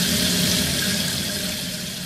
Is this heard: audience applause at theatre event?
no